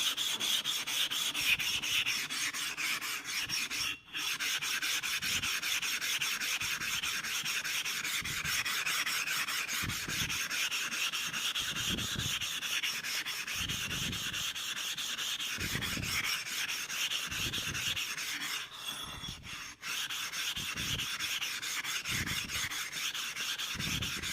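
A blade is worked back and forth over a sharpening stone in a steady rasping rhythm of repeated strokes, gritty and close, with a couple of brief pauses between passes.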